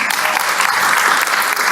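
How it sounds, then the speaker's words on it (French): Loud, dense applause from a room of women gathered at an International Women's Day event, steady and sustained from start to finish with no talk over it. "Applaudissez pour vous-mêmes."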